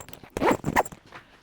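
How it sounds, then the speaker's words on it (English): A duffel bag zipper is drawn shut in a couple of quick, rasping strokes, close up, with brief soft rustling before and after. "Now let's zipper it up."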